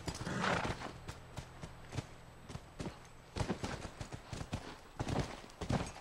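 A horse's hooves clop in an irregular walking rhythm in the video game The Last of Us, with a short whinny near the start, fairly close and clear over a quiet background.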